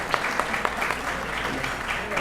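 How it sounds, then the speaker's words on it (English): Small business owners, women-owned firms among them, are applauded at a New York City Hispanic Chamber of Commerce gathering, steady close clapping from a sizeable room filling the short moment. "So a hand and applause to all of you for what you do."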